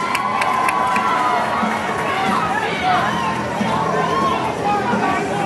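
Roller derby spectators cheer for the Sugartown Rollergirls, a sustained wash of shouting and whooping voices filling the venue alongside general crowd babble.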